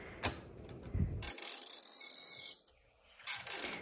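Short mechanical clicks and ratcheting from the ribbon reversal mechanism of a 1931 Remington Portable typewriter, heard close up as the part is pressed back and forth, with brief quiet gaps between the bursts.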